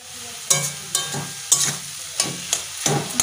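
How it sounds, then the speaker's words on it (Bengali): Fish frying in a pan, a close sizzle broken by about seven sharp scraping stirs at a steady rhythm, with no talking. "মাছ ভাজা হয়ে গেছে"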